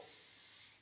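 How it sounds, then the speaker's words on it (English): Soft-set hair spray misted from an aerosol can during hair styling, one close continuous hiss of under a second that cuts off cleanly. "soft set spray, because you've already put plenty of product in there, you just want to give it a little encouragement on staying put."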